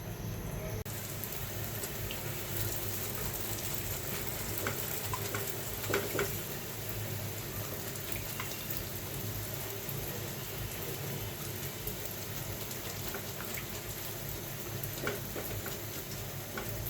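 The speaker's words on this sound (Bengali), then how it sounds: "এটা অনেক সময় ধরে ভাজতে হয়" Nakshi pitha, a Bengali pastry, fries in hot oil with a steady dense crackle and patter that carries on throughout, a few louder pops rising now and then, close by and with no talking.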